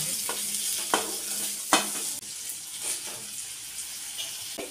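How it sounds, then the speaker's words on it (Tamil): Sliced brinjal and onion stir-fry in a hot pan, a continuous sizzle broken by several sharp scraping strokes of a spatula, close and clear with no talking. "கத்திரிக்காயும் நல்லா வெங்காயத்தோட வந்து மிக்ஸ் பண்ணிக்கலாம்."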